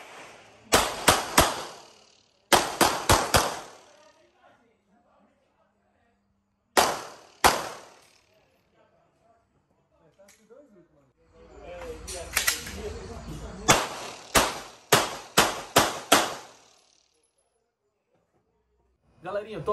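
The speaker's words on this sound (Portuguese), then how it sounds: "E agora acompanha aí o tiro na prática" Taurus TS9 pistol firing in quick bursts of sharp, loud shots at close range, several groups of two to six shots separated by pauses, with faint talking between strings.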